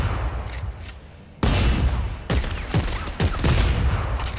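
Dense, loud video game gunfire in the sci-fi horror shooter Dead Space 3, with several heavy bursts of rapid shots and booming hits in quick succession and no talk over them.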